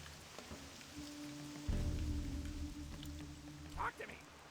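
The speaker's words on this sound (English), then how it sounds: "Oh, it's raining again?" Rain in Stranglethorn Vale in World of Warcraft falls as a soft, continuous patter on surfaces, faint and steady, with a low hum and a brief swell in the middle.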